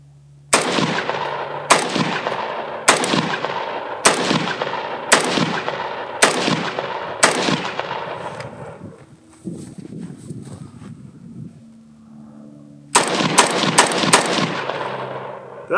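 Close, sharp rifle shots from 5.56 AK-pattern rifles, a Zastava M90 and a Mini Beryl, fired one at a time in an even, steady rhythm. A brief lull with faint handling noise follows, then a fast burst of several more shots.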